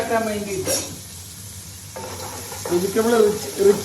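Chopped onion and green chilli sizzle in a pan for upma while being stirred, with scraping utensil sounds and a brief quiet gap midway, close and moderately loud, joined by faint tonal voice-like sounds near the end.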